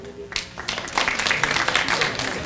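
Audience at a high school spring orchestra concert breaks into applause. It starts after a short quieter moment and swells into dense, close clapping that keeps going, with some voices mixed in.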